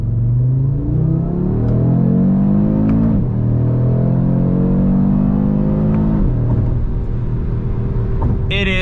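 A 2022 Audi RS3 sedan with its 400-horsepower five-cylinder engine accelerates hard through the gears, a loud rising growl that climbs, drops at each shift and climbs again, heard from inside the cabin.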